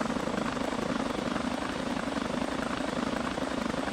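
A helicopter in GTA 5 with a British police mod: steady rotor thrum and engine drone, loud and continuous throughout, with no voices.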